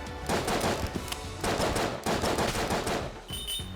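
Hand cannon gunfire in the video game Exit the Gungeon, a dense run of rapid, loud shots in two long bursts separated by a short pause, with game music and effects mixed underneath.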